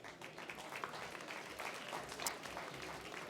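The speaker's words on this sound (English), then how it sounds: "So let's have a round of applause for Darren." Steady applause from an audience at the Unbound London 2019 Female Founders Challenge fills the room, a dense wash of clapping that holds at an even level throughout.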